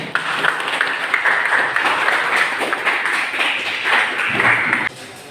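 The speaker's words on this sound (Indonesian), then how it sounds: "Anda beri tepuk tangan." A classroom audience at an Indonesian automotive engineering teacher-training session claps after a group presentation, dense steady applause that stops abruptly near the end.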